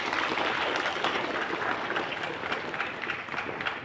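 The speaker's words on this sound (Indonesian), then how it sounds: "Tepuk tangan untuk kita semua." Applause from students at a school assembly for a book launch, a dense, steady patter of many hands clapping, moderately loud and slightly thinning toward the end, with no clear voices.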